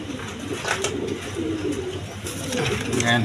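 A pair of large Mondain pigeons, male and female, coo softly in short repeated phrases at close range, mixed with background rustle and a person talking over them.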